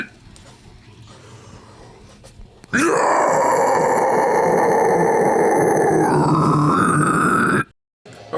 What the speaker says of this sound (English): that was my guttural demonstration